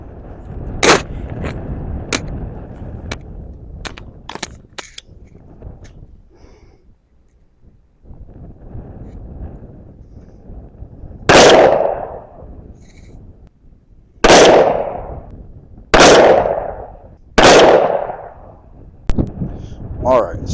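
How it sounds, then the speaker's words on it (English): Four sharp gunshots ring out at a motorcycle helmet outdoors, sharp loud cracks spaced a second or two apart in the second half, preceded by quieter clicks, handling noise and murmured voices. "Alright, so I took 4 shots."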